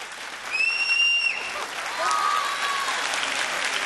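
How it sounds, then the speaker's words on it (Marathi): An audience at a Mangala Gaur stage event in Nashik breaks into applause to welcome a guest on stage, a few seconds of dense clapping swelling and then holding steady, with a brief thin whistling tone near the start. "जोरदार टाळ्याने आपण स्वागत करूया दीप्ती केतकरीचं"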